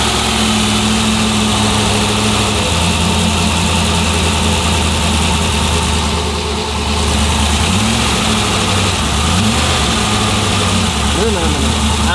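A tuned car engine in a performance workshop idles loudly and steadily with a deep, continuous rumble, rising in pitch briefly partway through, while people talk over it.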